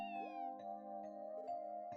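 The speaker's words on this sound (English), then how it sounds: "A cat?" A cat meows in the video game Trails from Zero, with clear repeated mewing calls over a steady tonal music bed and light footstep-like taps.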